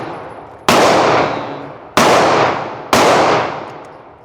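A Glock 40 Gen4 pistol fires three loud, sharp shots spaced about a second apart, each followed by a long echoing decay, heard close with no talk.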